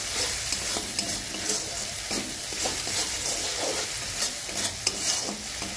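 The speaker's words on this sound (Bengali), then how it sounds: "দিয়ে এবার মশলাটা আমি কিছুক্ষণ একটু কষিয়ে নেব।" Turmeric-and-salt spice masala for a chela fish curry frying in a pan, a steady dense sizzle with soft scraping stirs and occasional light clicks of the spoon, close and continuous with no talking.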